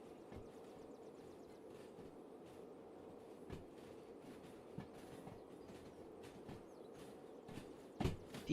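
Railway rolling stock shunting around a rail yard in a train simulation game, with a steady low rumble of moving wagons and scattered clanks and clicks of couplings and wheels, a louder knock near the end.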